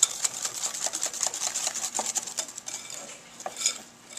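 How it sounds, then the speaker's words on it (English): Peach cobbler batter stirred briskly in a bowl, a rapid rattling clatter of a utensil against the side, fairly close and continuous before easing off near the end. "Just pour it all in, mix it together, and this is your batter that's going to make that really yummy crust. Just stir it together good."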